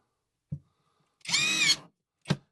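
A Greenworks 24V cordless impact driver drives a screw into pre-drilled wood in one short, loud whirring burst, bracketed by soft clicks before and after.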